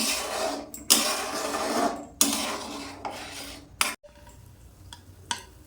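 Salt and turmeric being stirred into a pan for Bengali pabda fish in black mustard gravy: a spoon scrapes and rasps against the pan in several bursts, close and fairly loud, with short gaps between strokes.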